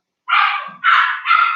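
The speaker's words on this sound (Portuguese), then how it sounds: "está aqui um cão a ladrar imenso" A dog barks loudly three times close by. Each bark is a sharp, sustained yelp separated by a short pause, and no voices are heard.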